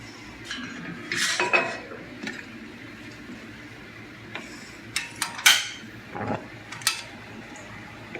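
Metal pots and pans clatter and clink against a hard surface as a pot of water is set on the stove, with a few louder knocks and scrapes over steady background hiss.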